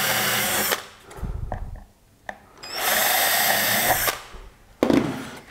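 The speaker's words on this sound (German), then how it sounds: "Und da bohrt ihr euch dann die Schraubenlöcher vor." A power drill pre-drills 3.5 mm screw holes for 3 mm screws in the wooden sides of a handmade dovetailed drawer, running in three separate close, loud bursts with short quiet gaps between them.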